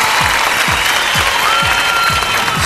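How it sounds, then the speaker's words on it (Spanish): An audience at a live TV talent show claps in steady, dense applause that fills the room throughout, loud and continuous, with a rhythmic thumping beat underneath. "Un aplauso para Jennifer López"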